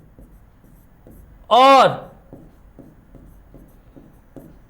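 Chalk or marker strokes on a teacher's board give faint, regular scratchy taps across the clip, interrupted by one short loud spoken word.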